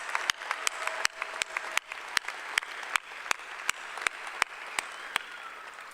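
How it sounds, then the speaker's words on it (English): A commencement audience at Tidewater Community College's 74th exercises applauds the student speaker, steady clapping with a few sharp, evenly spaced claps standing out near the front over a softer crowd wash, no talk. "Let's give our student speaker another round of applause"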